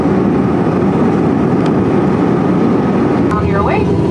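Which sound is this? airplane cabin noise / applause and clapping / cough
airplane cabin noise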